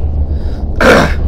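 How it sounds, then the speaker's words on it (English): A single short, breathy cough or throat-clearing burst from a nearby person, sharp and loud after a quiet low hum. "Yeah, my cough."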